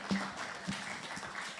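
Audience applause after a panel discussion: a steady wash of many hands clapping, filling the short stretch at an even, moderate level.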